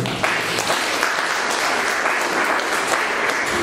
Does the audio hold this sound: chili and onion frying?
no